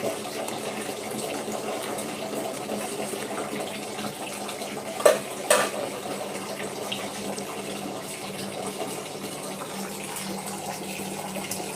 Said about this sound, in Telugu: వాటర్ ఫిల్ చేస్తున్నారు.